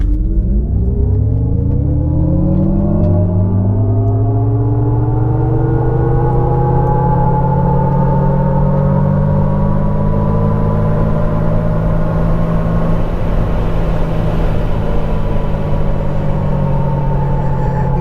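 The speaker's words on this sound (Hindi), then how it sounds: "यहाँ पे अपन कार को लॉन्च करेंगे। So let's put it in D, full throttle, let's go." A 2024 GMC Hummer EV launching at full throttle in its most powerful WTF mode, an electric motor whine sweeping steadily upward in pitch over a low road rumble, loud and continuous throughout.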